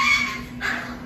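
Young puppies cry and whimper up close in a thin, high, continuous whine that swells, dips and rises again over a steady low hum.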